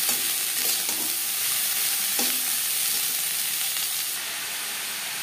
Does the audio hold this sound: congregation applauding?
no